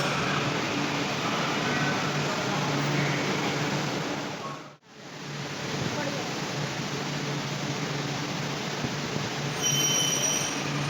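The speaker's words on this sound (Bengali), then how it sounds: "তো আমাদের মেট্রো দেখো চলে এলো" A Kolkata Metro train pulls into an underground station with a loud, steady rumble and squealing wheels that fills the whole stretch, dipping briefly midway before the roar returns.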